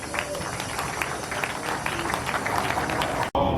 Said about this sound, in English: So let's clap for His Excellency.